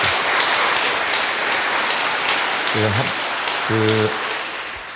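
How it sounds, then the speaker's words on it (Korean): A church audience gives a dense, steady round of thankful applause for a priest after a Lenten lecture, with a couple of short voiced sounds rising over it before it eases off. "감사의 박수 보내주십시오."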